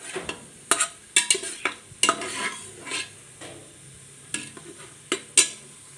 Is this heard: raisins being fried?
yes